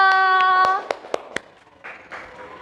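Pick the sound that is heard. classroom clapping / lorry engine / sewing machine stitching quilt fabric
classroom clapping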